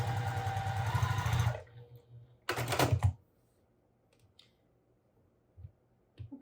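A sewing machine stitches a quilt block in two short bursts of rapid, close mechanical chatter, the first about a second and a half long and the second briefer, followed by quiet with faint handling sounds.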